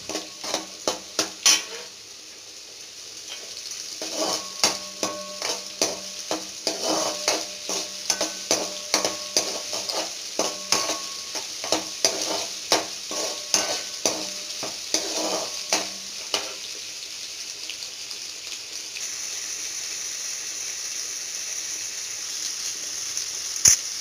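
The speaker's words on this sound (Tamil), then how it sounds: "பெரிய வெங்காயம், பச்சை மிளகா, கருவேப்பிலை, தக்காளி இதெல்லாம் போட்டு நல்லா வதக்கிக்கணுங்க." A spoon stirs and scrapes a pan of sizzling onions, green chilies, curry leaves, tomatoes, mustard seeds and chana dal for an idiyappam dish. The rhythmic scrapes sit over a steady frying hiss, close by, with no speech.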